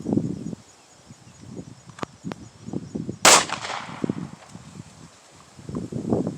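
A single sharp pistol shot, the cold first shot of a budget pistol drill fired outdoors, cracks loudly and briefly amid wind noise and faint rustling.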